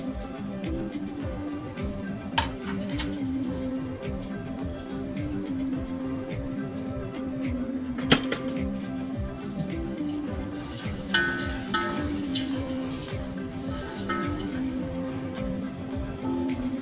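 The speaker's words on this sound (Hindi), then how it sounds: "जो प्याज में काट के रखी थी उसको हम ब्राउन कर लेंगे" Sliced onions browning in oil in a pan for chicken biryani, a continuous low sizzle with faint crackles and occasional clinks of a stirring spoon, steady and close.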